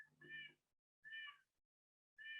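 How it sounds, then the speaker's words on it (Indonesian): Three short, identical cat meows ring out at even intervals with silence between, a sound effect in a simple Scratch game, faint and clean. "jika makan tikusnya ada suara kucingnya"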